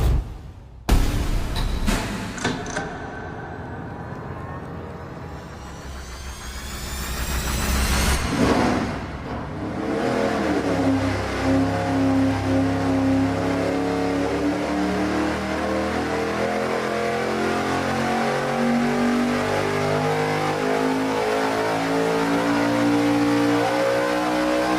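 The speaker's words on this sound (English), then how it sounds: "Our first run on this engine is going to be bank-to-bank." A dyno-mounted engine running bank-to-bank fuel injection cranks, fires and revs up, then holds a loud, steady high-rpm roar with a drifting tone for the rest of the run, no talking over it.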